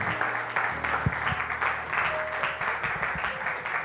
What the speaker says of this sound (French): Quelqu'un ici acclame le Seigneur.